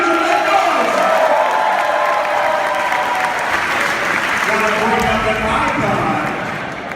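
A large fan convention crowd cheers and applauds loudly and continuously for a Power Rangers actor, with whoops and shouts mixed into dense clapping throughout.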